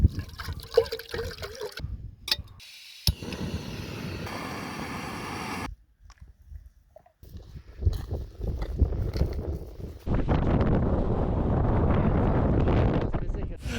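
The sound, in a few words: strong wind blowing outdoors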